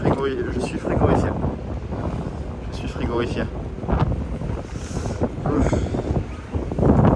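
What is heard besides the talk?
strong cold wind on microphone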